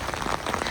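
Rain falls steadily outside a house in Japan, a dense close patter of drops hitting surfaces with no voices.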